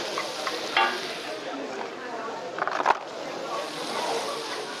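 Onion, green peppers and garlic frying on a camping stove, a close steady sizzle with stirring scrapes and a clatter near the end, voices faintly in the background.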